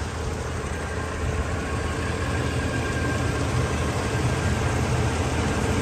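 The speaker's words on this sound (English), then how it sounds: "That nice smooth running 307" A 1990 Buick Estate Wagon's 307 V8 idles, giving off a steady low, even rumble under broadband noise that stays constant and close, with no voices.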